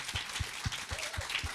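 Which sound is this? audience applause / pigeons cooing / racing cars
audience applause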